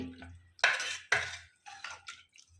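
Several scraping, squelching strokes of a utensil mashing cooked lentils in a pot, close up, with short pauses between them.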